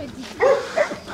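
A nervous dog at a seaside station barks a few times in quick succession, fairly close and moderately loud, with no speech over it.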